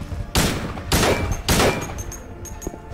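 Three loud, sharp pistol shots from Silent Hill 2 crack out at roughly even intervals. After them come quieter metallic clicks and chimes. There is no talking.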